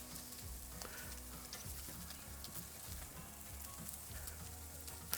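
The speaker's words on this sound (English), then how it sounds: "we're grilling steaks today" Steaks cooking on a grill give a soft, continuous sizzle with light crackling pops throughout, fairly quiet and heard alone without any talking.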